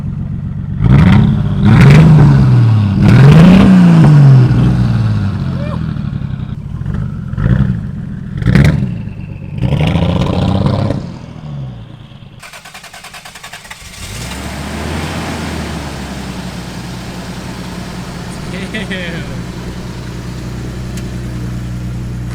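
Toyota Supra engine revving hard in repeated surges, loud and close, each rev rising and falling, before it settles into a steadier running rumble.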